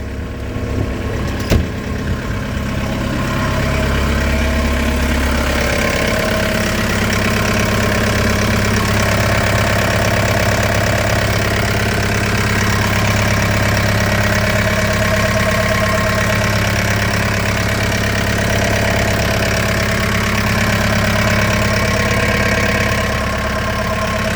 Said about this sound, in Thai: ฟังเสียงเครื่องยนต์ตอนสตาร์ทกันนะครับ